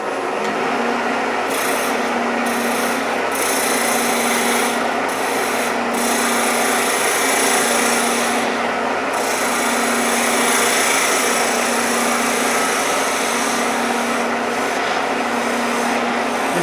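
A 3/8 bowl gouge cuts a mushroom-shaped wooden bird house spinning on a wood lathe, giving a steady, close, rasping scrape that runs continuously with brief dips in intensity.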